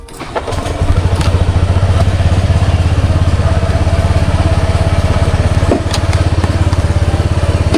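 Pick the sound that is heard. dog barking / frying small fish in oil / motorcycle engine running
motorcycle engine running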